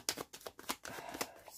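Tarot cards being shuffled by hand, a series of soft papery riffles and taps in an uneven rhythm, close and quiet, with no talking over it.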